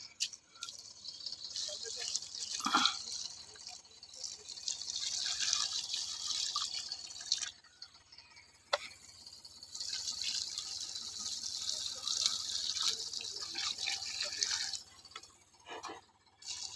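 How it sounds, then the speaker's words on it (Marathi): Water is poured over newly planted pineapple plants, a soft, steady trickling splash that runs for several seconds, breaks off briefly and then resumes, fairly faint and close. "तर आपण आता यांना पाणी देऊया थोडं थोडं."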